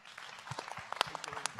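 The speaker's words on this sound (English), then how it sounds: "Can we please give another big round of applause to the Collective Memory Project?" Quiet, scattered applause from an audience at a veterans' event, with uneven individual claps rising and falling at a distance.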